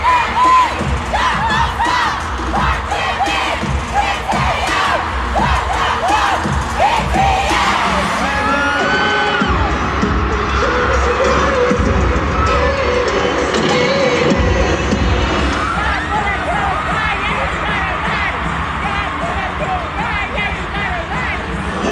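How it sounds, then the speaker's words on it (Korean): A huge stadium crowd roars and screams continuously at a Las Vegas concert, loud and dense throughout, with shrill whoops and a voice talking over it. "관중들이 미쳤어. 저 함성 좀 들어봐."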